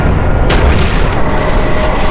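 A grenade goes off in Alien Swarm with a single loud, deep boom that trails into a dense, rumbling roar lasting a couple of seconds.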